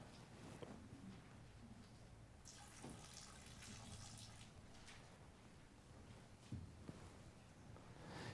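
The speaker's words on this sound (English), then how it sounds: "Next, I wish to pour out water for those of us who are gathering online." Water is poured out during a Sunday church service, a faint steady trickling and splashing in a quiet room, with a few soft knocks and thuds along the way.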